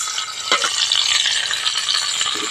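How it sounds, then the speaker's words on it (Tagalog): Squid frying in a hot pan for adobong pusit over a strong flame, a steady bright crackling sizzle with short stirring scrapes, loud and close throughout. "magluluto tayo ng pusit"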